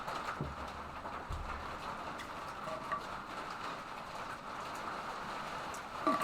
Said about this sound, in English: Is it raining? No, I think dogs and cats are hitting my roof.